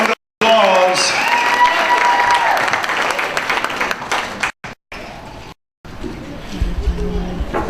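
A banquet audience at a Georgia barbecue championship bursts into sustained applause with some cheering, dense clapping close and loud, cut by brief dropouts before a voice speaks over the fading noise near the end.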